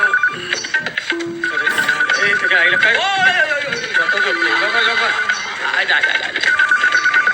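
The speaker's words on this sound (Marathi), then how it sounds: "फोन वाजायला लागलाय" A telephone rings steadily and loudly through a Marathi comedy scene, while people talk and exclaim over it the whole time.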